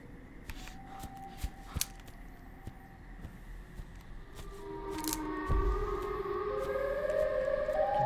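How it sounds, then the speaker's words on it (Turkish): A wailing siren in the video game Siren Head Stranded rises and sweeps in pitch, growing louder toward the end amid scattered clicks and rustling noises. "klasik siren sesi ama oyunun atmosferi çok iyi"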